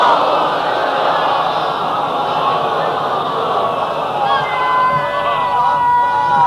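A large gathering of worshippers loudly recites salawat in unison, a dense, sustained roar of many voices chanting together, close and steady throughout.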